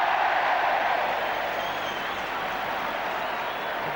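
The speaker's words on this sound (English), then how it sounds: "Cheer for Ray Clements" Stadium crowd at the 1977 Super Cup second leg, Liverpool v SV Hamburg, roaring and applauding for goalkeeper Ray Clemence; a dense, steady wall of cheering and clapping that holds loud for the whole stretch.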